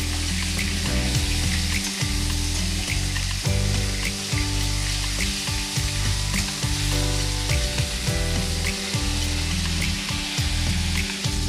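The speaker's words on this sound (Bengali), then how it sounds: "আলু ভাজা তেলের মধ্যেই মাছের মাথাগুলো ভেজে নেব" Hilsa fish heads frying in hot oil: a loud, continuous sizzle with occasional scraping stirs, no voices.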